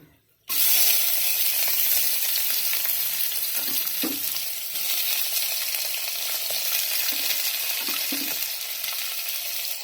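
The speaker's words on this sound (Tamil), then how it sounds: "வெங்காயம் வதங்கணும்." Onions sautéing in hot oil in a pan for coconut milk rice: a steady loud sizzle starting abruptly and holding throughout, with a few soft stirring knocks, close up.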